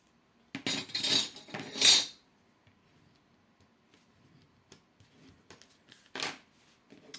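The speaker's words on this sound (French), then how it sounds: "J'enlève l'opercule de mon double face." Backing is peeled off a strip of double-sided tape on a card, a short close run of crisp, crackly tearing followed by quieter small ticks and taps of handling.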